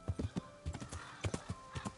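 Horse hooves clip-clop in the medieval video game Kingdom Come: Deliverance, a quick irregular run of sharp, close hoof knocks with a faint whinny-like tone under them.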